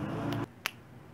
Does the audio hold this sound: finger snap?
yes